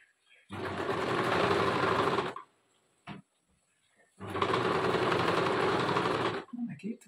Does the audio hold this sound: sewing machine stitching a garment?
yes